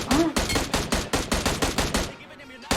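Gunfire in the video game PUBG Mobile comes as a rapid, evenly spaced burst of about a dozen loud shots, which stops abruptly near the end.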